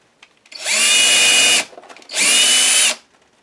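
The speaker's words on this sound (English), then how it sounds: "bring in my drill and drill a hole approximately in the binding, in the center of the binding, 3 holes with my drill" A power drill bores through the binding of a handmade journal with a vegan leather cover, two loud sustained whirring bursts of about a second each, separated by a short pause.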